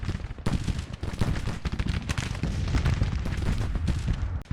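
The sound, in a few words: artillery fire in the video game Grand Tactician Civil War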